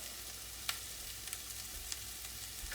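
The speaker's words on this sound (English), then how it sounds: "we're going to let this simmer on a lower heat" A pot of beef and sausage sauce with crushed tomatoes, vegetables and bay leaves simmers on lower heat, with a steady soft sizzling hiss and a few small pops and bubbles.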